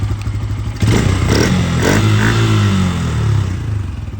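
A Honda-type N160 motorcycle engine runs steadily at close range after an oxygen sensor repair, its low idle rumble rising into a few brief revs before settling back to an even, continuous hum.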